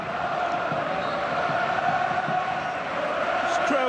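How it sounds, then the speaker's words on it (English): A large football stadium crowd at a Barcelona match roars continuously, a dense sustained wash of cheering voices with no pauses. "This crowd absolutely reveling in this cameo debut by Coutinho."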